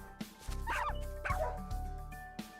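Several dogs in the game Fate/Grand Order let out a few short, close barks and yips, one near the start and then a pair of louder bursts a beat apart, over a quiet musical background.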